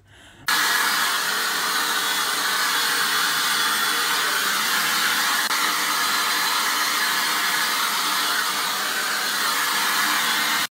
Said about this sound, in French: je vais les pré-sécher avec un sèche-cheveux un tout petit peu